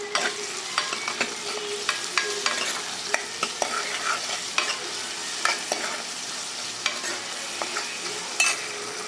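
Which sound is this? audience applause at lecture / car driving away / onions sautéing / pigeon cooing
onions sautéing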